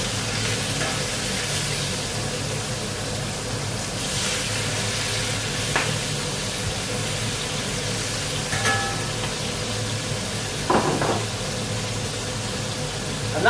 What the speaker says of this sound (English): that loud searing noise that's going on in there now